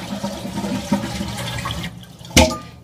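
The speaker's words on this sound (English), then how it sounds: "So you want to get down, go ahead and drain the tank" A toilet tank is flushed to drain it, with a loud, close rush of water that gurgles steadily and then cuts off abruptly, followed by one last splashy surge.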